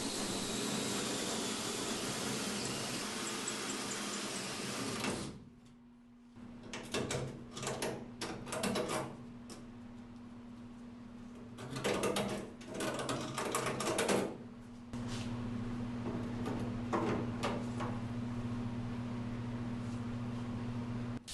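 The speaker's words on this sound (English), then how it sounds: "I've had good luck with a hole saw and some anchor lube and slow speed for doing big holes in sheet metal." A hole saw cutting slowly through Jeep sheet metal with cutting lube, a steady grinding whir that breaks off into short bursts of rasping and scraping, close and fairly loud with no talk.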